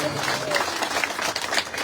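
A crowd at a Congress political rally applauds, a dense, even patter of many hands clapping at moderate distance throughout, with no clear gaps.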